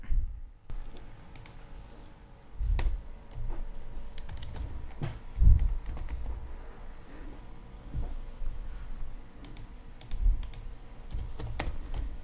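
Someone types HTML code on a computer keyboard, with light, irregular key clicks and a few heavier keystrokes, close by and steady for several seconds with no talking.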